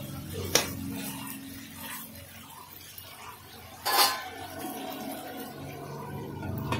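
Mutton curry stirred in a covered pot, with a couple of distinct metallic clanks of spoon and lid against the pot and soft scraping between them, over a quiet kitchen background.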